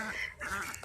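A duck gives a brief, faint quack or two while ducks and chickens are penned for the night.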